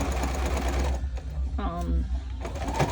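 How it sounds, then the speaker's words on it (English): A sewing machine stitches a puff quilt made with owl feather fabric, its steady mechanical whir running close beneath a person talking, with a brief pause before the sewing resumes. "I'm just sewing all of them, and then coming back, sewing the other side."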